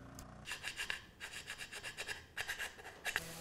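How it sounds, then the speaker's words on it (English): Diamond files rasp against a wooden handheld game console case in quick, close back-and-forth strokes, grouped in several short bursts with brief pauses between them. "to clean it up a little bit more, I just switched back over to the diamond files"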